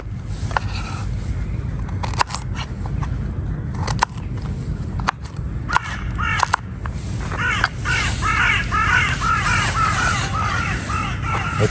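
Crows caw repeatedly outdoors during campfire cooking, harsh calls standing out from distance, growing busier and denser toward the end, over steady ambient outdoor noise with occasional sharp knocks.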